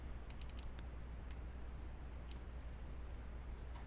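Computer keyboard keys being typed: sparse, faint clicks in short bursts over a low steady hum, with no talking.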